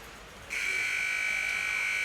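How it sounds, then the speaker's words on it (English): Ice hockey arena buzzer marking the end of the second period in a Skellefteå AIK versus JYP match, a sudden sustained loud electronic drone starting after a brief quiet moment and holding steady. "The buzzer sounds"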